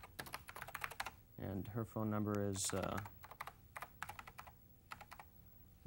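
Computer keyboard typing on a 1990s computer in a TV demonstration of a visual programming database, heard as bursts of quick close clicks around someone speaking in the middle.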